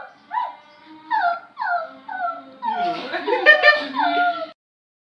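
A person at home imitates a dog with a run of close, high whimpers and yips that rise into a howl-like whine, each vocal sound short and repeated.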